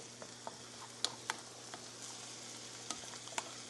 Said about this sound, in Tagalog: Simmer lang natin ng konti.